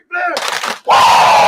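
A crowd roars a loud, sustained "woo" in unison, a drawn-out falling cheer cutting in after a brief burst of shouting and noise, given in tribute to wrestler Ric Flair.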